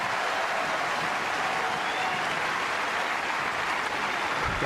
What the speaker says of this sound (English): Crowd approves of that foray into the net by the Frenchman.